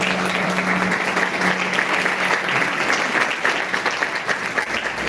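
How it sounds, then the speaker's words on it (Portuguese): A church congregation applauds in a dense, steady wash of clapping that lasts throughout, filling the room at close to moderate distance, with a faint voice briefly audible beneath it. "Quem ama Jesus, dê um forte aplauso a ele."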